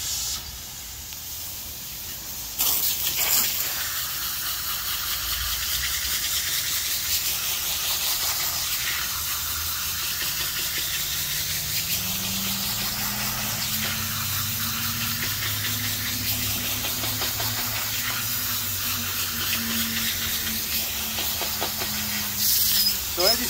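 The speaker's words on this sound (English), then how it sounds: "I'm just taking this nozzle and I'm starting at the top of the filter" High-pressure hose nozzle spraying a hot tub filter from the top down, a loud continuous hissing spray whose tone shifts as the jet moves across the pleats, with a brief burst of harsher spray near the start.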